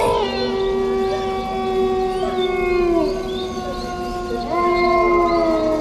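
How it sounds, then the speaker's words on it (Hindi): Wild animal howling in a dark forest, a long wavering howl with rising and falling overtones that fades and then swells again near the end, loud and close with no other sounds. "घने काले पेड़ों के बीच से कभी किसी जंगली जानवर के गुर्राने"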